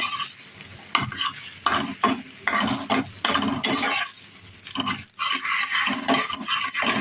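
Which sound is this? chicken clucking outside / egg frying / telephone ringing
egg frying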